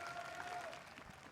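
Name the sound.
hometown fans cheering at a VCT esports match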